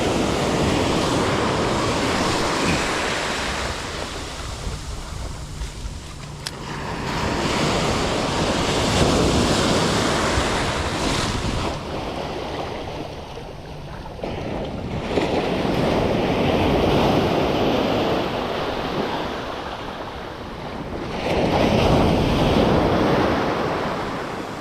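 Large ocean waves crash and surge at sea in repeated swells, each roaring rush building and fading over several seconds, loud and close with wind buffeting the microphone.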